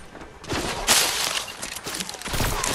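Rapid gunfire from two players shooting in the Fortnite video game, with dense bursts of shots and sharp cracks over a few seconds and quiet talk mixed in.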